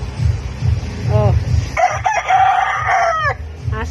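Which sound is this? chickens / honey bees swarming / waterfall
chickens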